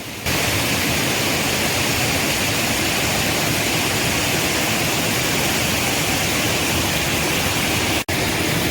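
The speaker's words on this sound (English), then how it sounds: "This is a breathtaking Galboda Waterfall." Galboda Waterfall in Sri Lanka, about 30 metres high, pours down in heavy flow and makes a loud, unbroken roar of rushing water close at hand. It holds steady with no voices.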